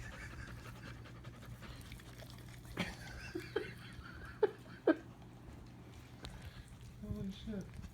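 Dogs panting steadily up close, with a few sharp wet snorts and brief whimpers midway, while people talk in the background.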